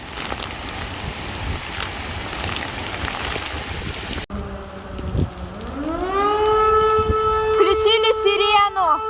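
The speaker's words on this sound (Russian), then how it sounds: "Включили сирену. Угроза наводнения и смерча." Civil defense siren sounding a flood and tornado warning during a storm in Tuapse, rising into a loud, sustained wail over steady heavy rain and wind.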